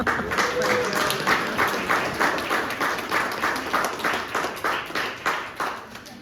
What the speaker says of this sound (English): they should get a round of applause if you got one